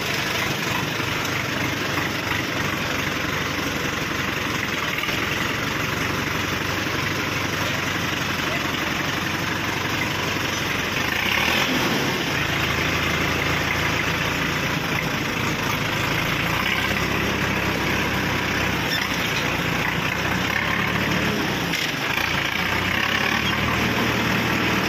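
A Sonalika tractor idles with an Eicher tractor silencer fitted, giving a steady, loud, continuous engine rumble close to the microphone that runs throughout with no break.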